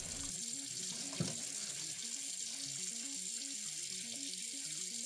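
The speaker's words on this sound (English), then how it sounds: "Then we pour the liquid directly into the sink." Boiled vinegar liquid poured into a kitchen sink gives a faint, steady splashing trickle with one brief louder splash early on, set against soft background music.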